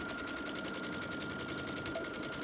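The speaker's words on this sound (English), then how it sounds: "Then it's just about doing a quick zigzag across the top." Sewing machine running steadily as it stitches a zigzag across the top of a Halloween appliqué, a continuous close whirring hum with a fast even rhythm and no pauses.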